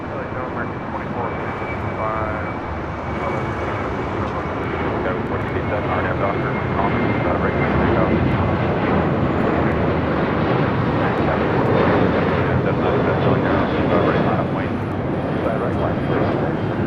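A Boeing 737-800 jet rolls on runway 25 left at LAX, a continuous loud engine roar with a thin whine, under a voice talking throughout.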